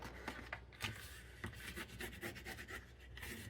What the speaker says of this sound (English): Now, because this is dry adhesive, you really want to burnish it in,